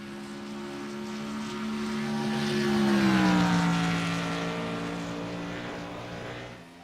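A race car on a qualifying run at Atlanta sweeps past with a droning engine that rises to a peak and pitches down as it passes, then fades away, heard alone without talk.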